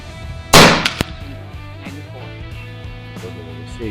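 A sharp, loud crack from an Effecto Spark Mini 5.5 mm PCP air rifle being fired, a single shot followed by a couple of faint mechanical clicks and a steady low hum in the background.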